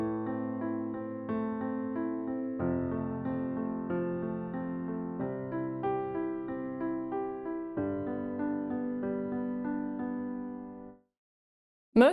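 A piano plays flowing arpeggiated chords in the right hand over left-hand fifths, changing harmony every couple of seconds, soft and close, then stops abruptly near the end.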